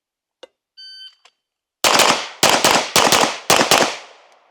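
Rapid bursts of gunfire during target shooting training, four loud strings of shots in quick succession after a few faint electronic beeps, ringing off into a short decay at the end.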